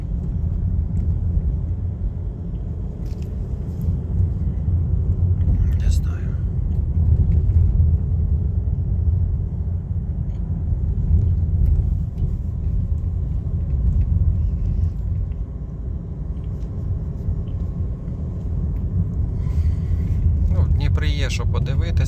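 Heavy city car traffic in Dnipro during an abnormal +45 heat wave, a steady low rumble of many engines and tires close by throughout, with no clear gaps between vehicles.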